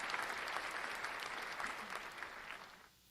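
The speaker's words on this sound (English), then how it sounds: "We're gonna go ahead and clap that up." Applause from a live podcast audience, a dense, steady clapping that fills the moment and then cuts off abruptly near the end.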